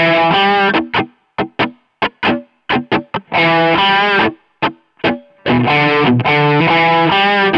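Distorted electric guitar plays a riff, loud chord stabs broken by sharp gaps where the strings are choked silent, a choppy stop-start rhythm with no talking.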